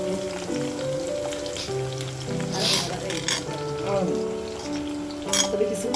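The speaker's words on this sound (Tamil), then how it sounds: "ஸ்லைஸ் போட்டு வச்சுருக்கோம்ல வெங்காயம், அதை போட்டு இதை நல்லா கோல்டன் ப்ரௌனில் ஃப்ரை பண்ணி எடுக்கணும்." Sliced onions fry in hot oil in a pan, giving a dense, steady sizzle and crackle that stays close and loud throughout, with a voice speaking over it.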